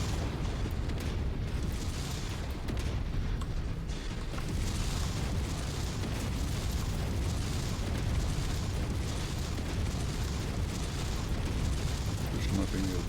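Heavy explosions demolish a base in the MechWarrior 5 video game, forming a dense, continuous roar of rumbling blasts and bursts that runs unbroken throughout, with voices faintly mixed underneath.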